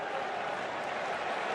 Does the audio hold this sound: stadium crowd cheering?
yes